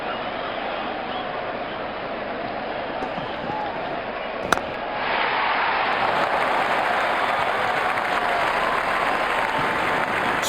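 A stadium crowd roars and applauds in the Sachin Saga Pro Cricket mobile game, a dense, steady wall of cheering that swells louder halfway through after a sharp crack, as if bat on ball.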